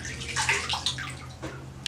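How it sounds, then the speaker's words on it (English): Water splashes and runs close by at moderate volume, with gurgling movement and a sharp drip near the end. "It's water. Nothing is inside. It's water."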